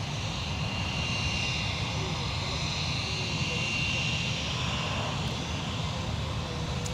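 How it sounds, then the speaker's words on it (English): An Airbus A321neo departs from the north side at MSP airport, a steady distant jet roar holding at an even, moderate level throughout, with broadband rumble and a faint high whine, partly under a commentator's voice. "So 2122 at A321neo is departing currently on the north side for LAX"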